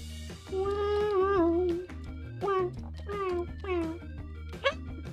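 A person imitates a kitten, giving a string of drawn-out, rising and falling meows with short pauses, close and clear over a steady background music bed.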